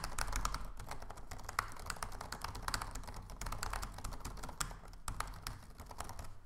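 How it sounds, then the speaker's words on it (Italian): Rapid, continuous typing on a short laptop keyboard, close up, with quick light key clicks in an even, busy rhythm throughout. "Questa è la tastiera corta cortissima, provate a sentire come si sente."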